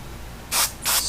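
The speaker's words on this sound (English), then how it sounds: "You take a little bit of that spray paint," Two short hissing bursts of spray paint from a can onto a foam brush, close and fairly loud, the second lasting a little longer.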